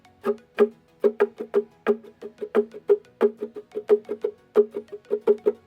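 Quick, rhythmic strumming on muted ukulele strings, a steady run of crisp percussive strokes at a brisk pace with no talking, the strum pattern for a song.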